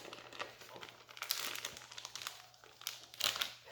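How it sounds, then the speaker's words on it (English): Plastic packaging crinkles and crackles as kitchen shears cut open packs of ground pork, with irregular close crinkling and snipping bursts that are quiet overall and heard without any talking. "I'm just gonna take my kitchen shears and cut the packs open"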